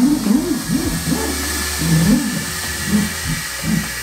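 Outdoor yard work equipment running in neighboring yards, a steady engine-like drone with a low warbling, rising-and-falling hum that persists throughout at a moderate distance.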